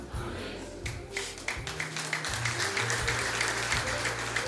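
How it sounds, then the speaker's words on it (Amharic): At a church worship service, a congregation claps in a steady, rhythmic beat along with music, a dense wash of applause close and loud over a low musical backing. "ጭብጨባ ከሙዚቃው ጋር"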